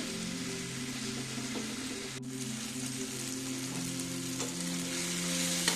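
Tomatoes fry slowly in a pan over a low gas flame, a soft, continuous crackling sizzle with a low steady hum underneath and no talking.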